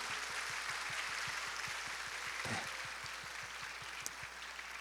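A church congregation applauds to welcome the pastor's wife, a faint, distant wash of clapping held under a steady low hum.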